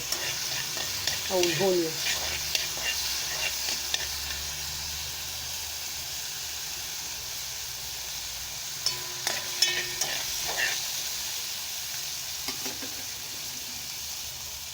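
Garlic and coriander sizzle and hiss in oil in a pan, with a steady frying sound under occasional stirring scrapes and brief talk.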